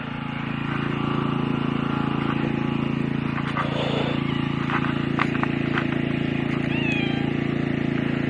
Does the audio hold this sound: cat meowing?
yes